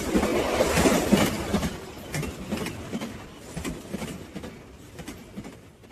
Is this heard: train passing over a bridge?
yes